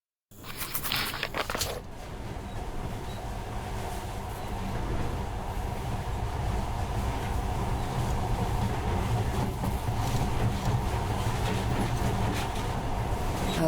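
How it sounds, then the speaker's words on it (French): A monorail train in the video game Metro Last Light runs along its track, a brief clatter at the start giving way to a continuous low rumble and rolling hum that holds steady throughout. "Avant, les trains étaient des trucs ordinaires. Maintenant, ce monorail a l'air magique, pas vrai?"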